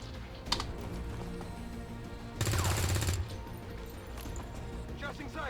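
A soldier fires a single gunshot in the turn-based tactics game XCOM 2. It lands as one loud, close burst about a second long in the middle, among quieter interface clicks and game ambience.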